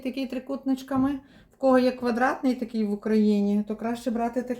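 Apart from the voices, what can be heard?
None of the usual background noises is heard.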